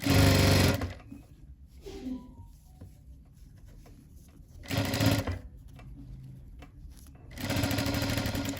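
Sewing machine stitching a blouse, running in three loud bursts at the start, middle and end with quieter handling noises and faint clicks between them, no talking.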